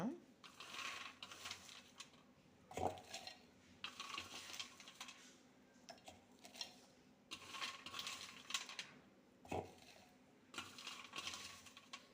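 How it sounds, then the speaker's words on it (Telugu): Peanuts pour into a container for making palli karam podi spice powder, rattling in several close, lively bursts of dry clatter separated by short pauses. "పల్లి పప్పులు అన్నీ ఇందుట్లో వేస్తున్నాను అనమాట ఫ్రెండ్స్"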